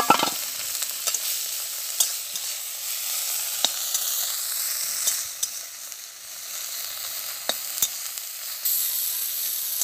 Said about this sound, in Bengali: শাকটাকে কিন্তু নেড়ে চেড়ে ভালো করে ভেজে নিতে হবে।